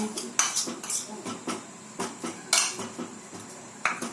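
Fruit custard stirred in a pan over low heat, a utensil clinking and scraping against the metal in a steady series of close, moderately loud knocks with no talking.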